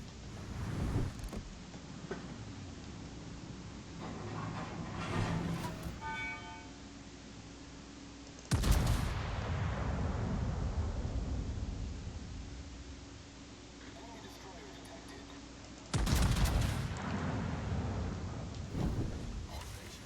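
Heavy guns on the experimental battleship USS Oregon fire in a naval video game: a few sharp, booming blasts with rumbling tails, spread several seconds apart over a low hum, with speech in between.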